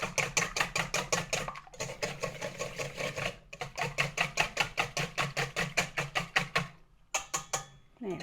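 Two room-temperature eggs whisked by hand in a bowl for a lemon curd mousse, a quick steady series of clicking, rattling strokes in regular bursts with a couple of short pauses, close and fairly loud.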